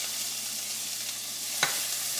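Chopped onions sautéing in hot oil in a pan, a faint, even sizzle with one brief sharp clink near the end, no one talking.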